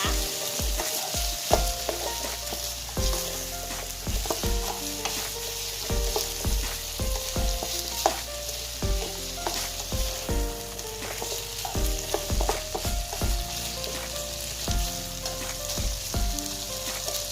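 A Thai stir-fry is tossed and mixed in a hot pan: steady loud sizzling runs under repeated metallic clanks and scrapes of a spatula against the pan, close up, with no talking.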